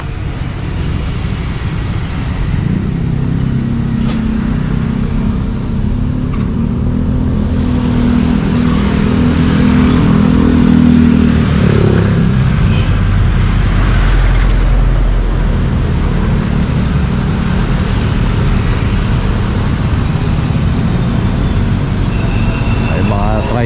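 Tricycles and other traffic roll past on Maria Clara Street, a steady, loud engine rumble with a swell of revving partway through, while someone talks over it.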